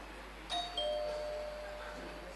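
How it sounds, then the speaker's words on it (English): A single bell rings out in a quiz contest at a tertiary business championship, a quick double ding followed by a lingering, fading tone over a steady hum of room noise. "Let me hear the bell from KNUST."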